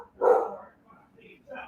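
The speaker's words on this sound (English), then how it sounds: "That's your dog. Your dog agrees." A dog barks once close by in a loud burst, then gives a couple of fainter yips or whines within a second, in an indoor setting during a conversation about real estate.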